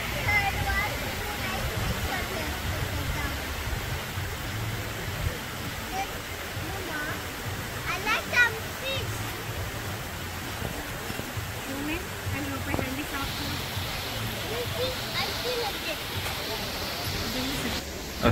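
A river in Alanya, Turkey, rushes with a steady, close broadband wash of flowing water, and voices can be heard faintly over it.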